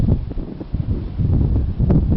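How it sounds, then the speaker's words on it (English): Strong gusting wind at a motor racing circuit in Geelong, buffeting the microphone in loud, uneven low rumbles that swell and fade in repeated gusts, with no voices heard. "Wind absolutely gusting through now, nearly blowing me off my feet down here."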